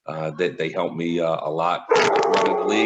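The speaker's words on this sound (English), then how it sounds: "That's my dog in the background." A dog barks and yips close by, mixed in with someone talking over it, the barking growing louder and more insistent in the second half.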